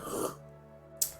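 A single short throat clearing, close and fairly quiet, followed by near silence and a brief soft noise at the end.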